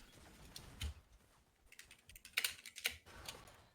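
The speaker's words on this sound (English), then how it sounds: "I think now it's worth typing" Quick keystrokes on a computer keyboard while typing a chat message during a League of Legends match, a scattered run of clicky taps that bunch into a faster burst toward the end, close and fairly quiet with no talking.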